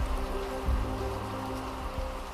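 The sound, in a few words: heavy monsoon rain in a refugee camp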